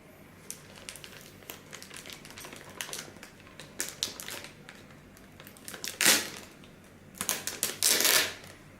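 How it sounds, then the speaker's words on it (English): Plastic packaging crinkles and crackles around a boxed Belsee Android car head unit for a Toyota Camry, with soft scattered rustles building to two louder, close crunching bursts near the end. "Let me open the plastic."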